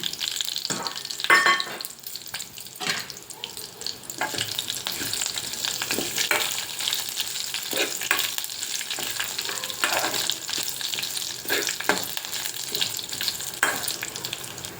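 Cumin seeds and curry leaves frying in hot oil for beetroot chutney give a loud, continuous crackling sizzle, broken by occasional stirring scrapes, heard up close with no talking.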